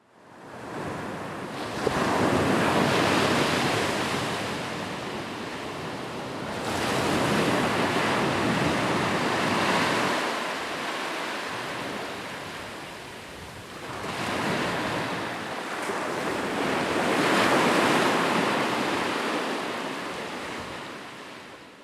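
Atlantic ocean waves wash ashore at Comillas, a small coastal town on the northern Spanish coast, as broad surging roars that swell and fade in several long cycles, full and close, with no one speaking.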